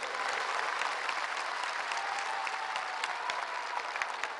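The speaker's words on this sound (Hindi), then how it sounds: "जोरदार तालियों से आप सभी लोगों ने स्वागत करें।" An audience at a Goa Liberation Day celebration applauds to welcome the Prime Minister, with steady, continuous clapping from a large crowd at moderate level and no voices above it.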